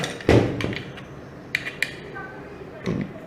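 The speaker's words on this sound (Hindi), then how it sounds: "और ये इसकी लैच ऑपरेट हो रही है" The latch of a reversible mortise lock with a lever handle is worked, giving a few sharp metallic clicks and taps close by, with someone talking between them.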